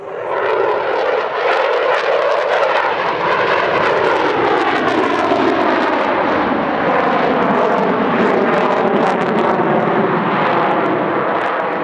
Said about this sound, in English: aircraft in this display demonstrating about a 17 degree per second sustained turn rate